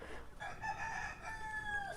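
Leghorn chickens about five and a half months old cluck and crow faintly at a distance, several birds calling over a quiet outdoor background.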